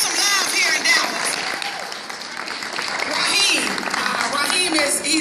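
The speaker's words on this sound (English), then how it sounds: "let's just give him another hand clap" An audience at a Dallas event on domestic violence claps for an R&B guest, sustained dense applause with a few cheers that dips briefly mid-way and then swells again, loud and close.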